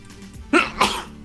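A single sharp sneeze bursts out close by, a quick intake followed by two explosive pushes within about half a second, with a quiet room behind it.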